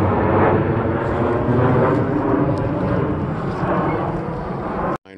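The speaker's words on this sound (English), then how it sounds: "And here's another plane." An airplane passes overhead at historic Fort Foote on the Potomac, a loud, sustained roar that fills the air for several seconds and then cuts off abruptly.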